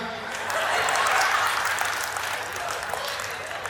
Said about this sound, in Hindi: आप तालियां बहुत कम बजा रहे